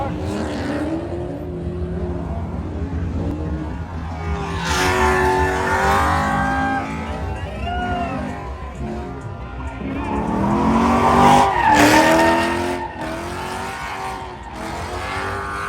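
A drift car at a racetrack squeals its tires through long sliding passes, engine roaring as the screech swells, fades and returns, with a voice talking over it.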